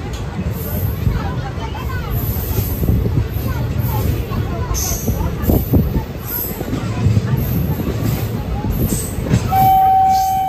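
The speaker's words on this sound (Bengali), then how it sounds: "ট্রেন একদম পারফেক্ট টাইমে চলছে।" Passenger train on the Kolkata to Digha route rumbles steadily along the rails, with constant low mechanical roar and rattling carriages under the babble of a crowded coach and people talking.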